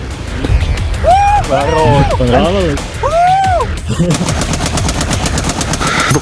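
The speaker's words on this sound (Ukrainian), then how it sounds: "кулемети, зенітно-артилерійські установки ЗУ-23" Rapid bursts of heavy automatic fire from a ZU-23 anti-aircraft autocannon and machine guns, loud and close, with a sustained rattling stretch near the end; a voice rises briefly amid the shooting.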